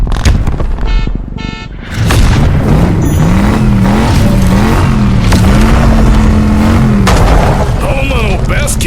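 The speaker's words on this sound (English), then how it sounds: "Then eventually the car would land and you would step out of your car with so much aura." In the Basketball Zero video game, a car lands with a heavy booming impact, followed by dense rumbling effects and a wavering synthetic tone, layered with game audio and some talk.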